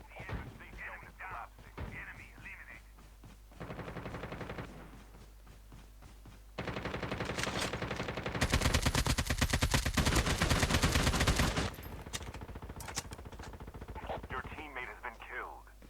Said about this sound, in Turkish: Şu an bizim adamlara sıkıyorlar.